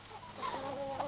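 A chicken gives a short, faint clucking call close by over a low background hum.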